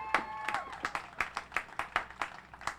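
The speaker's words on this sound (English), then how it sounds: "So give another round of applause for that." A small outdoor crowd claps at a park event, with distinct individual hand claps in a loose rhythm, about a dozen sharp claps spread across the moment, fairly close and clear.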